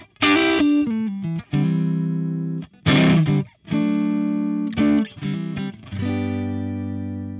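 Heavily distorted electric guitar through a Sunn Model T amp model in Helix, master cranked, with thick, high-gain saturation, played in bursts of sustained chords and short stabs with brief gaps between phrases.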